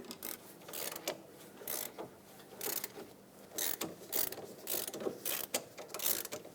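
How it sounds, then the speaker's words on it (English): Ratchet clicking in repeated bursts while loosening an inner tie rod on a 2005-2010 Chrysler 300, rapid pawl clicks close to the mic with short pauses between strokes, no talking. "Now put a ratchet on it or a breaker bar, twist it until it breaks free."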